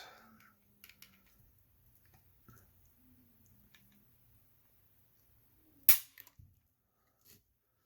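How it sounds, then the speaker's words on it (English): Dry-fire trigger pulls on a Smith & Wesson M&P 2.0 pistol with a light striker spring: sparse faint mechanical clicks, then one sharp, louder snap followed by a couple of softer clicks, close up in a quiet room. "Do some trigger pulls on this really quick"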